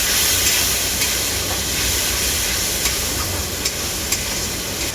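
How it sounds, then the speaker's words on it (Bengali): Splashes of water hit sizzling ground coriander, cumin, turmeric and chilli powder masala in a hot pan, giving a loud, steady, close hiss of steam that barely fades over several seconds. "এরপর আমি এর মধ্যে অল্প একটু জল দিয়ে দেব মশলাটা ভালো করে কষানোর জন্য"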